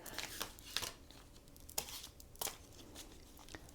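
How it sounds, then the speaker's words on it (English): Tarot cards are shuffled close up, with papery flicks and riffles arriving in uneven bursts, soft and quiet. "Just going to shuffle the cards"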